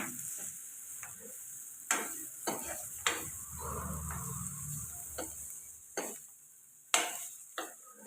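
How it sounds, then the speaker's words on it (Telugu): Broad beans fry in a pan with a soft, steady sizzle, while a utensil stirs and taps against the pan in a few sharp scrapes spread through the clip. "ఒక నిమిషం పాటు ఇలాగే ఫ్రై చేసుకుందాం"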